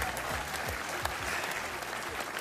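Loud, continuous audience clapping at a German TV show, a full, even roar of hands over a steady thumping music beat, with a brief sharp accent midway and faint voices in the mix.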